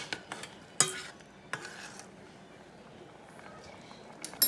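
A spoon or spatula stirs squid cooking in a pan, a few scraping clinks standing out over a faint, steady sizzle.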